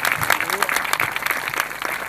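Loud applause from a church congregation at a Hindi-Odia sermon, dense steady clapping filling the whole moment with a few voices mixed in.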